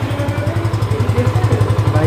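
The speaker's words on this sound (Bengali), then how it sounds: "বাইকের সাউন্ডটা দেখছেন গাইস?" A Yamaha FZS V2 motorcycle engine idles loud and close with a steady rapid thumping pulse; the start itself is not heard, and a voice may be faintly under the engine.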